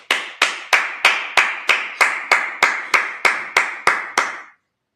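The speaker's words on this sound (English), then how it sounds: "Clap it up." A congregation at a Sabbath service claps in unison, about thirteen sharp, evenly spaced claps at a steady beat, loud and close, then stopping abruptly into silence.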